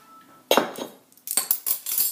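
A whisk clinks and scrapes against a bowl while pancake batter with sugar is beaten, in short close bursts of metallic tapping separated by brief pauses.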